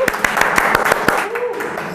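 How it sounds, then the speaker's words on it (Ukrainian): A quick run of about eight distinct hand claps from the audience at a Ukrainian regional brain-ring quiz tournament, fairly close and evenly spaced, fading out as a voice carries on faintly underneath. "Оплески."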